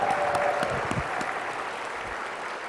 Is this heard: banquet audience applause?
yes